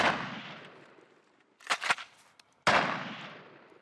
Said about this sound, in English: The rubber bullets sting, but won't penetrate the bear's hide.